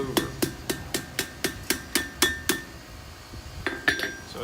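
Steady hammer blows ring on a forged steel fishtail bent over the edge of an anvil, about ten bright metallic strikes in even rhythm, then a pause and a few lighter taps.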